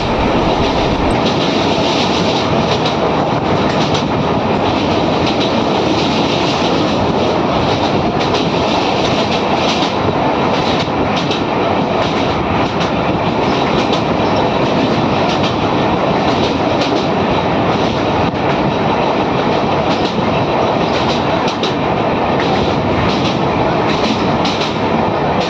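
The Valsad–Dahod Intercity Express runs near Bharuch with a loud, continuous roar of wheels on rails, a rhythmic clickety-clack over joints and occasional faint squeals, sustained unchanged throughout with no voices.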